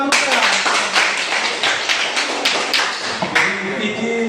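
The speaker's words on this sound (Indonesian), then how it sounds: "Oke, tepuk tangan dulu." Classroom applause from students, a dense run of overlapping hand claps lasting several seconds, close and fairly loud with rhythmic taps and thuds mixed in.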